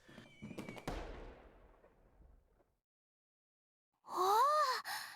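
Fireworks burst during a festival scene in a video game, opening with several sharp cracks that trail off into a long crackling decay, then silence before a separate loud tonal swell at the end.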